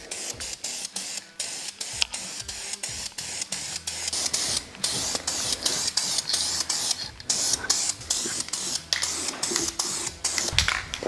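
An aerosol spray paint can sprays in a rapid run of short, loud hissing bursts, close up and fairly regular, with brief gaps between them and no talk over it.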